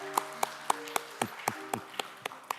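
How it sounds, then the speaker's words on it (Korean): A few hands clapping in a steady, regular beat at a Korean church Sunday service in Baltimore, quiet and sparse, with a faint tonal hum underneath. "하나님께 영광의 박수를 올려드리겠습니다"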